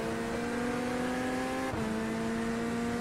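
A Mazda MX-5 race car in iRacing runs with a steady, droning engine note that dips briefly at a gear change and then carries on, with no talk.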